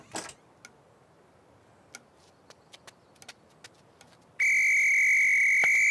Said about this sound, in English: It's lucky I found this whistle.